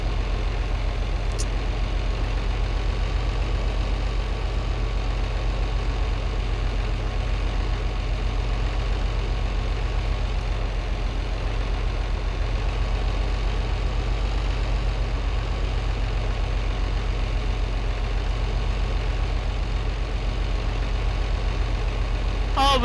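A small tractor in Farming Simulator 22 hauls a trailer loaded with stones uphill, its engine droning steadily and loudly at a constant idle-like pitch throughout, with no voices over it.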